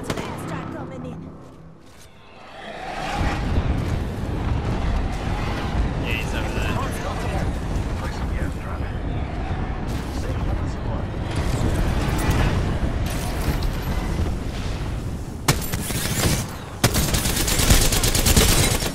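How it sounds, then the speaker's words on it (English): Heavy airstrike explosions and rumbling blasts pound in Apex Legends, building into a dense, loud barrage with sharp cracks and gunfire near the end, while players talk over it. "we've got an airstrike coming in"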